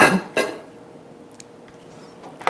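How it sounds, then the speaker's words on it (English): A kitchen blender holding freshly blended tomato soup is pulled apart: two sharp clattering knocks of the jar and parts come close together, then faint small clicks and quiet. "we're going to take the blender apart"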